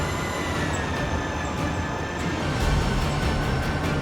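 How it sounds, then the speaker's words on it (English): Freight train in BeamNG Drive, hauling boxcars of crude oil barrels and fuel tankers, rolls down the line with a steady, loud rumble of wheels on rails and a faint metallic ring. "driving a train down the track with boxcars filled with crude oil barrels and tankers with fuel"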